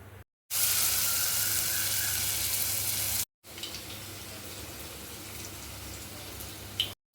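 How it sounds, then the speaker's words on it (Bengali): Potato fritters (aloo bora) frying in oil in a kadai, a steady hissing sizzle broken by two abrupt silent cuts, with a few faint taps near the end. "দেখতেই পাচ্ছ কড়াইতে বড়া দিয়ে দিচ্ছি, আলুগুলো ছেড়ে দিয়েছি"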